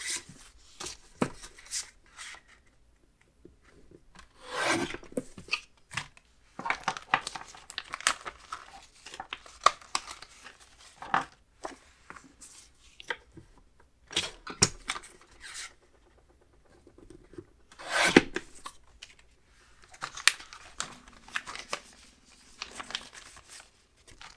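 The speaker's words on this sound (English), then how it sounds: "And I'm going to cut some more pieces to about the same size." Paper being cut into small pieces of roughly 3 by 4 size for a 4x6 mini album, with scattered crisp snips and crinkling handling noises, close and fairly quiet, with pauses between cuts and no talking.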